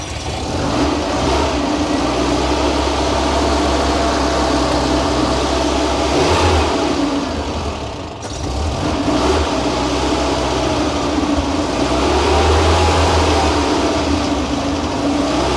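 A 1975 Pinzgauer's engine runs steadily at a loud, close idle with a low rumble, dips briefly around the middle, then picks back up and revs slightly; no one talks.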